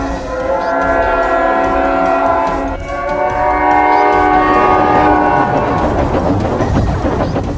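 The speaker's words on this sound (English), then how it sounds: "Let's see if the train has done anything." A train rolls past in the Roblox Piggy video game, sounding a long, loud, chord-like horn in two blasts over rumbling wheels, with the clatter of the cars taking over as the horn fades.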